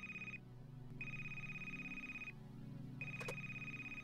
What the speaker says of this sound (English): Pick your damn phone up, Carl.